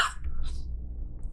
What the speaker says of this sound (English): See, you're making me have to cough.